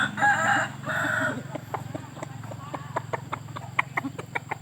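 Chickens at a Thai backyard flock in the evening, a rooster's crow up front followed by scattered clucks and sharp pecking or scratching clicks, close and moderately loud amid soft ambient noise.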